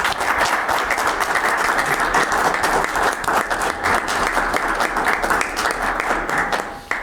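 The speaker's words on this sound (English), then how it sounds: "if you'll just please give them a round of applause" Sustained applause from a county meeting audience, dense and steady at close range for the whole stretch, tapering slightly near the end.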